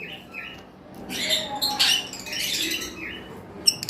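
A pair of pet lovebirds, a turquoise parblue male and a violet parblue female, give short sharp squawks and chirps close by in a quiet indoor space, with a few scattered calls and a faint clatter near the end.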